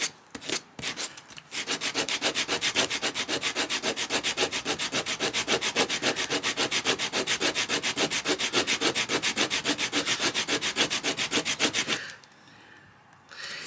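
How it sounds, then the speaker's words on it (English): Wood on a dulcimer is sanded by hand in steady, rhythmic back-and-forth strokes, close and even for about ten seconds before stopping. "you just go back to sanding some more."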